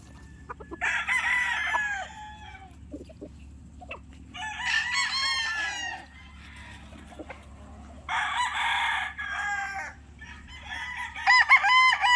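Young late-born stags, a grey and a honey-white gamecock, crow in three long bursts with short clucks between, fairly close and loud over steady farmyard background hum, with no talk.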